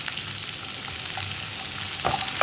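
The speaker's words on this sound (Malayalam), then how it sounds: "ഇനി നന്നായിട്ടൊന്ന് വഴറ്റിയെടുക്കുക." Sliced onions and shallots sizzling with salt in a hot pan, a steady close frying hiss with a few soft stirring scrapes near the end, no talking.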